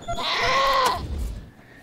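Goat bleating in the post-apocalyptic game Wasteland 2: one loud, wavering, strained bleat lasting about a second, then a low fading grunt, with no talk over it.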